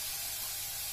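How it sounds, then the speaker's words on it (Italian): Hot tap water runs steadily while produce is rinsed for a homemade sauce, a loud, close, continuous hissing rush that holds at the same level throughout with no voices. "semplicemente passandoli sotto acqua corrente calda"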